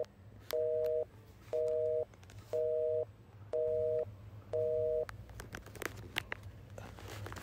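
A phone ringing with an electronic tone: five evenly spaced two-tone bursts, each about half a second, under a low steady hum, followed by a few soft rustles.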